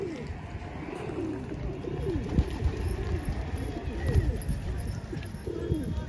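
Patiala pigeons and racing homers kept by a Haryana fancier coo in soft, repeated throaty rolls close by, several birds overlapping in a continuous murmuring chorus.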